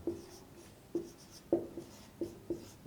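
Writing on a board during a Sanskrit grammar lesson: about six short, scratchy strokes spaced roughly half a second apart, close and clear, with no voices.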